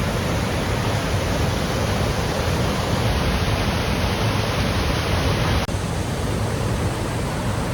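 A waterfall in Olympic National Park, Washington, pours in a dense, loud, steady rush of broadband water noise that fills the whole span without pause, with no voices.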